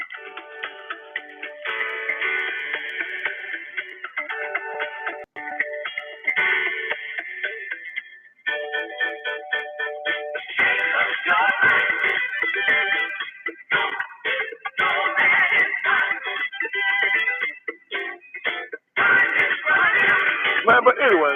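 1980s gospel song playing through a thin, narrow-band speaker, steady music with vocals and rhythmic accompaniment throughout.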